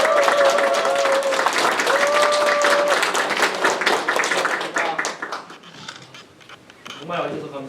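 A crowd at a campaign office opening for Reform Party candidate Lee Tae-hwan in Sejong claps loudly and steadily, with a few held tones and voices mixed in, then the clapping thins out.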